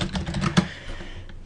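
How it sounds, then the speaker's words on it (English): Quick, light keystrokes on a computer keyboard, a short burst of close clicks with one sharper tap, then fading quiet. "typing our element"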